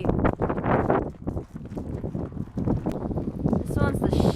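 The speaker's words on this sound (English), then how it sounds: "It's a little windy." Gusts of wind buffet the microphone in low, rumbling bursts, with a voice speaking intermittently through the blustery noise.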